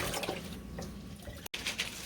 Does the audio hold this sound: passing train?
no